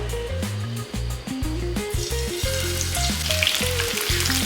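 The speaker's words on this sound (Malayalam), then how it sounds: "എണ്ണയിലിട്ട് ഫ്രൈ ആകുന്നതിൻ്റെ സൗണ്ട് നിങ്ങൾ കേൾക്കുന്നുണ്ടെന്ന് വിചാരിക്കുന്നു" Cauliflower pieces for gobi 65 fry in hot oil, a loud continuous sizzle and crackle heard up close without talk.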